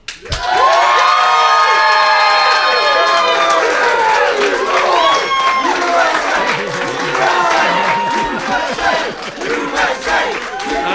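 Audience at a policy school's annual eagle-versus-turkey debate erupts in loud, sustained cheering, whooping and applause, with shouted voices over dense clapping throughout.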